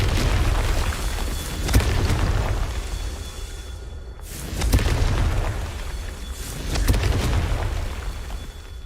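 Fiery Confringo spell blasts in Hogwarts Legacy go off as three heavy booms spaced a few seconds apart, each followed by a rumbling, decaying roar.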